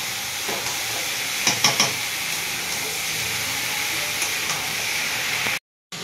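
Steady sizzling hiss of boiled jackfruit frying in a pan, with a few light scrapes and taps of a spatula, no voices.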